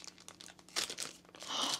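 Crinkly packaging of a WiFi Pineapple Pager being pulled open by hand, with soft rustles building into louder, sustained crumpling and crackling over the last second, close and alone without talk.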